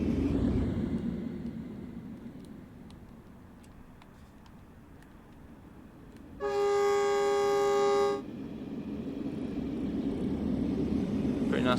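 Metrolink cab car train passing in Train Sim World 5 on the San Bernardino Line, a low rumbling rail roar with a loud, steady horn blast held for about two seconds midway, then rumble continuing.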